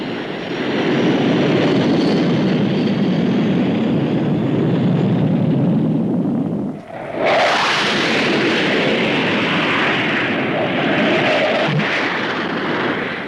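A fully supersonic two-seat version of a fighter jet, first flown in spring 1959, passes at the Farnborough air show: a loud, steady jet roar that dips briefly, then returns as a harsher, brighter roar that slowly fades.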